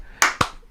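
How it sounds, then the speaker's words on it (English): Two slow, sharp hand claps about a fifth of a second apart, close and alone, in a quiet room. "slow claps"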